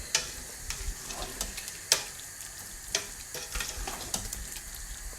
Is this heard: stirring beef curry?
yes